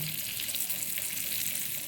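Two green chillies and cubed capsicum sizzle in melted butter in a pan, a brief, steady, hissing fry that carries on evenly with no talking.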